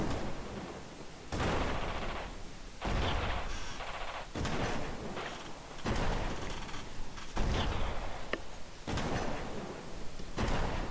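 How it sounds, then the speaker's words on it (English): Repeated artillery fire in the war game Radio General, with sharp booming blasts at irregular intervals over a low, continuous background and no speech. "Artillery firing at India 5."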